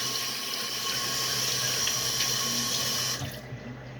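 Hands are rinsed under a running kitchen sink tap, a steady close splash of water that cuts off near the end.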